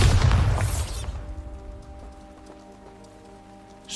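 A Bombarda explosion spell in Hogwarts Legacy, a loud crashing blast with scattering debris for about a second, then fading into quiet with faint rattling bits afterward.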